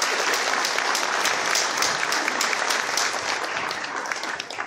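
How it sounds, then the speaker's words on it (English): Audience applause at a tribal casino information session, a loud, dense round of clapping from a crowd that holds steady for several seconds and tapers slightly at the end, with no talk over it. "please join me in a round of applause for the chairman"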